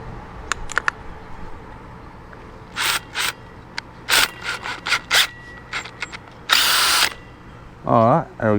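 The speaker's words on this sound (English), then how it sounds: "Let's put that on the drill." A power drill spins in several short bursts while fitting a chicken feeder part, with loud whirring runs separated by pauses and lighter handling clatter; the final burst rises and falls in pitch.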